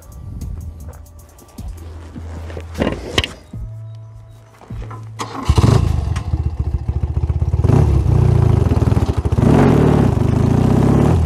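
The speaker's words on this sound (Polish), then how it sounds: "Oddajmy mu hołd, odpalając nasze motocykle" Several motorcycles started together at a memorial plaque unveiling in Birmingham: scattered clanks and brief starter whirs, then engines catch around the midpoint and settle into a loud, continuous, rumbling idle with uneven pops.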